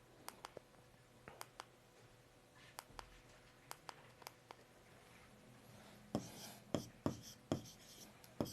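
Pen on paper while working an accounting example: faint, sparse scratchy strokes and taps at first, turning into a denser run of louder quick strokes near the end, with no speech over it.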